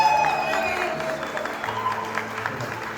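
An audience claps at an award ceremony for a game jam competition, steady scattered applause filling the room at moderate volume, with a faint tone and some background voices beneath it.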